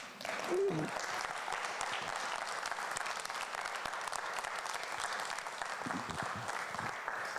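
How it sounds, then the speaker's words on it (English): Sustained, dense applause from an audience at a Pittsburgh community town hall on human relations, steady and fairly loud throughout with no break. "so you can give me an applause at this time"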